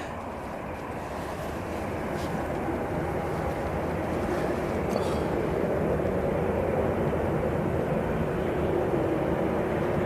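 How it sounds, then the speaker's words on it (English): A Ryanair jet taxis onto the runway at Manchester Airport, its steady engine roar a broad, constant rumble at moderate distance with no break. "So I got a Ryanair that's taxiing onto the runway."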